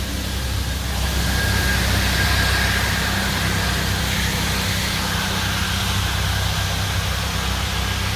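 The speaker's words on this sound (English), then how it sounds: "That is, I think, a blower that's attached to like a golf cart." A leaf blower mounted on a golf cart clearing a street, heard as a steady broadband roar with a low engine drone underneath, constant and moderately loud, unchanging for the whole stretch.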